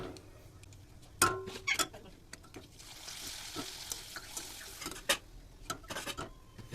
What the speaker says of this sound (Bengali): পাঁপড়গুলোকে আমি একটু হালকা করে ভেজে ভেজে তুলে নিচ্ছি